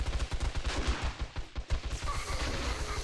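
Rapid automatic gunfire in the 7 Days to Die video game with the Rebirth mod, fired at zombies: dense, loud bursts of shots for about two seconds, then a continuous rough rumble of fire and din.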